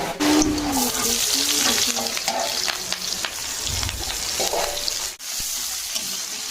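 Shrimp sizzling loudly in hot oil in a wok, a close crackling hiss with occasional scraping and clinking of a utensil.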